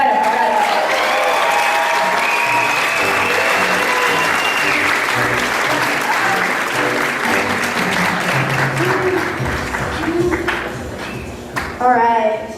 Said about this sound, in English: Let's give Emily Bennett a round of applause.